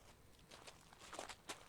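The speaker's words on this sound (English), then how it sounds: "I suddenly hear footsteps approaching, crunching through the grass" Footsteps crunching through grass in a forest scene from the Code: Realize video game, a series of soft, fairly faint steps drawing closer with irregular rhythm.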